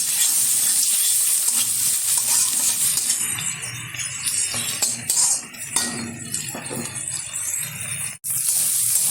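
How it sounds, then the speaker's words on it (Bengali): Washed shrimp lightly frying in a pan with onion and chili, for a Bengali elephant-foot-yam greens dish: a steady loud sizzle with stirring scrapes throughout, no talk. "চিংড়ি মাছটা হালকা ভেজে নেবো বেশি ভাজবো না"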